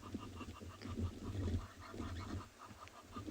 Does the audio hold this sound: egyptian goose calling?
yes